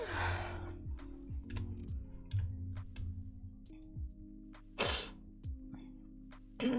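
A person sneezes in short, breathy bursts, one at the start and another midway, against faint ticking and clicking game sounds, fairly quiet overall.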